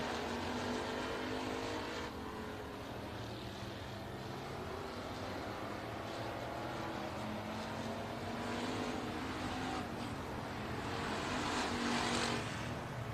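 USRA factory stock cars racing in a heat on a dirt oval, a continuous distant roar of many engines with shifting whines and swells as the pack circles.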